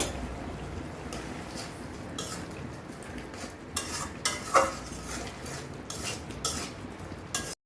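A spoon stirs coconut curry in a metal pot after ground cumin and garam masala paste go in, making steady soft scraping with a faint sizzle underneath and sharper clinks of metal against the pot toward the end.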